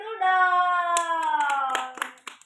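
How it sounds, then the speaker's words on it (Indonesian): Schoolchildren in an elementary science class clap in a quick, rhythmic pattern, with sharp claps spaced evenly and sung or chanted voices sustained underneath. "Kasih tepuk tangan dulu"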